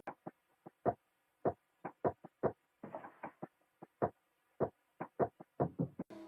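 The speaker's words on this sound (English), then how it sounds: "I added this texture percussion loop." Texture percussion loop built in FL Studio for a trap beat: a dry, irregular pattern of short, close clicks and taps, with a brief noisy rustle in the middle, playing alone.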